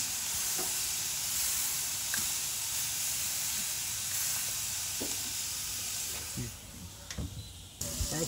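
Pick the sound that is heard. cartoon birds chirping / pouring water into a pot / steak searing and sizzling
steak searing and sizzling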